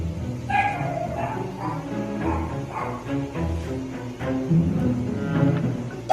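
A small guard dog gives a run of sharp, high yips and barks in quick, uneven bursts, close and fairly loud, with a few whimpering notes between them.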